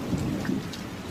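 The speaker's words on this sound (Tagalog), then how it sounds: "Magpayong ka, malakas ang ulan." Heavy rain pours steadily as a dense, close wash of noise with low rumbling underneath, continuous for the short stretch and with no voices over it.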